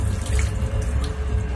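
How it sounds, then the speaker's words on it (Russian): Warm water streams steadily from a sensor faucet into a sink in a long-distance Moscow–Vladivostok train washroom, a close, continuous splashing rush with no talk. "И вода сенсорная, тепленькая бежит."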